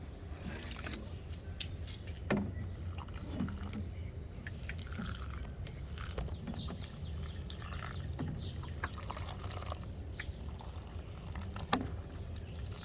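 Water is poured gently onto a plant's soil on a homestead, a soft quiet trickle with scattered drips and a couple of sharper splashes, no talking.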